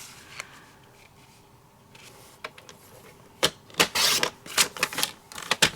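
Dark blue paper gets trimmed to size, giving a few faint early snips and then a dense run of sharp, close slicing and crackling strokes in the final seconds, with no talking.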